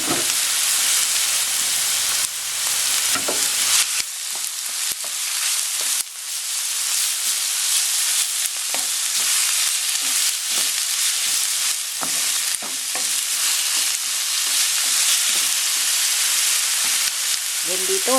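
Ground pork and onion fry with garlic in a pan, a loud continuous sizzle and hiss with occasional scraping stirs and clinks throughout, close up and without talk.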